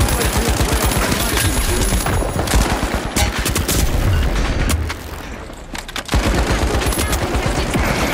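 A gun fires in the shooter game The Finals, Season 2: loud, dense, rapid gunfire that runs almost without a break and dips only briefly before resuming.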